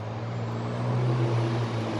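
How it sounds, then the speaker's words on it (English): A loud truck passes on a foggy Georgia day with a heavy droning engine rumble and a pitched whine that swells near the middle. It is sustained and close, with no talking. "that truck is so loud"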